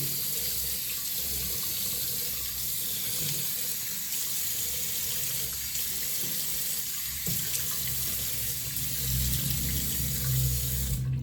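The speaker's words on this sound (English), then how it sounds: "Let me just wash my face real quick before we start." Water runs steadily from a bathroom sink tap during face washing, a continuous close splashing flow with small shifts in the stream and no talking.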